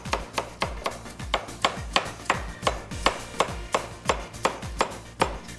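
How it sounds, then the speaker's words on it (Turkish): Knife chopping carrots into small cubes on a board, a steady run of sharp, close knocks roughly twice per second, with no talking. "Havuçları da küçük küp şeklinde doğrayacağız."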